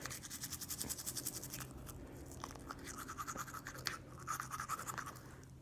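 Toothbrush scrubbing a dog's teeth, with quick, gentle, rhythmic bristle strokes repeating steadily at close range, no voices.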